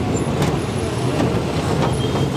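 An upgraded dual-battery electric passenger auto rickshaw climbs a bridge incline, its ride heard as a loud, steady road and traffic rumble with some rattling, while a person talks over it.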